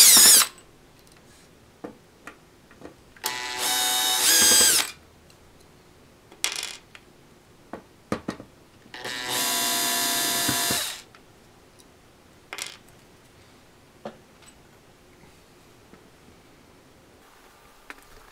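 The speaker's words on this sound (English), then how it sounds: "use the number 2 Phillips to remove 4 screws from the DVD enclosure" Number 2 Phillips screwdriver backing out four screws from an original Xbox DVD drive enclosure, heard as several short bursts of whirring with scattered small metallic clicks and taps between them, close up and without talk.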